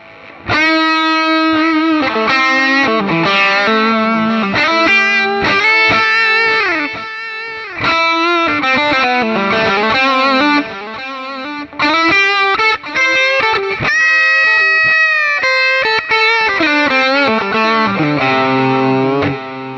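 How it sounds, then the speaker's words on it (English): Electric guitar played through a Harley Benton DNAfx GiT multi-effect processor on its 808 overdrive preset, driven notes and chords with a long delay trail, loud and close with no talking. "I suppose that's an 808 overdrive. So let's hear what that sounds like."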